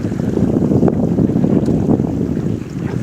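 Steady, loud wind roars across the microphone aboard a racing sailboat out on open water, a continuous rushing gust with water wash beneath and no talking.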